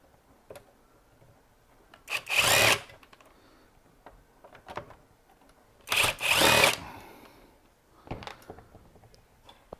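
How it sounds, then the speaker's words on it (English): An electric screwdriver whirs in two short, loud bursts a few seconds apart while a Chauvet LED moving head light is being taken apart, with faint handling clicks in between. "It's gonna be my new favorite screwdriver."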